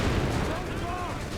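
Dense battlefield gunfire and artillery rumble in Company of Heroes 3 form a continuous loud, noisy wash under a commentator's voice.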